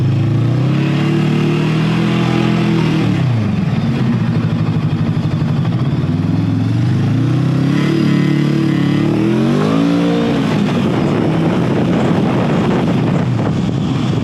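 A VOGE CU525 motorcycle engine runs continuously during a test ride, its pitch rising and falling through several rev sweeps amid steady wind noise, close and loud with no talk.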